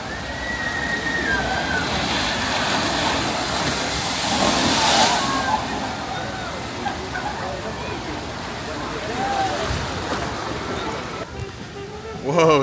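Splashing water from the Mystic River Falls flume ride at Silver Dollar City, a steady wash of sloshing and rushing spray with crowd murmur and faint voices mixed in throughout.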